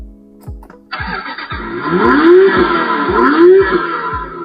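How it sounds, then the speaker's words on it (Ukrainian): A few sharp clicks, then a Bambi Racer M 6192 24-volt toy electric jeep's push-button synthetic engine start-up effect roars in with a revving, rising whine, loud and close. "Запуск з кнопки зі звуком старту"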